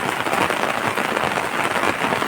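Heavy rain pounds down in a dense, loud, unbroken roar.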